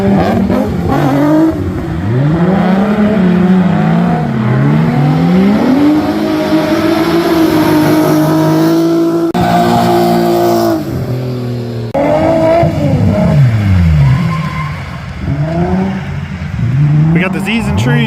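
Drift cars, a G35 sedan and an S14, rev hard and skid around a raceway, engines roaring loud and continuous with rising and falling pitch, while a person talks over the noise throughout.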